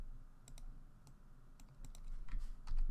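Computer keyboard keys pressed in a sparse, irregular series of light clicks, close but fairly quiet against a low background hum.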